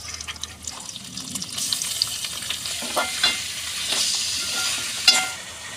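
Chicken frying in a pan with coconut, with a steady sizzle and scraping stirs along with some watery hiss, close and fairly loud, no voices.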